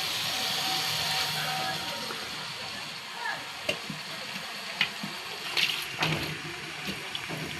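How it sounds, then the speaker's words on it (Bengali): Water used to rinse out spices poured into a pot of cooking mutton, a soft wash of splashing and bubbling with a few light clinks of utensils, close by and fairly quiet. "মশলা ধোয়ার এই যে জলটা দিয়ে দিলাম।"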